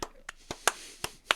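A few people clapping slowly and unevenly, about six sharp, separate claps with short gaps between them, close and fairly loud, no voices over them.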